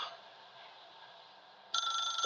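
Telephone ringing in The Stanley Parable video game, a faint electronic trill that jumps to a louder, sharper ring near the end.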